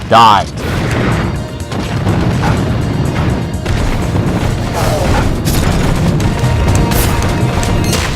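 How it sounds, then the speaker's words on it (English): Bombs go off in Super Smash Bros. Brawl, opening with one loud close blast, then a dense, continuous rumble of crashing impacts and game chaos under excited voices. "Bombs!"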